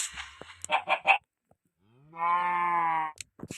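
A sustained, clear cow moo from a cow in Minecraft rises and holds for about a second, preceded and followed by brief rustling and clicks.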